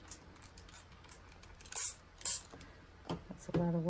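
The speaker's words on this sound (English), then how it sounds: "Just kind of spray a little here and there." Two short hissing spritzes of water from a spray bottle sound close up against a quiet background, followed by a brief voice at the end.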